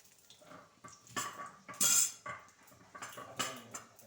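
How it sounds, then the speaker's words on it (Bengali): A flying pigeon gives a short burst of throaty, pulsing coos in the middle, with faint background noise before and after. "রসুনটা অল্প পিষে নিব পাটাতে"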